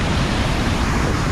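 Water rushing through the gates of the Nizam Sagar dam in Telangana, a loud, dense, continuous roar with no talk over it.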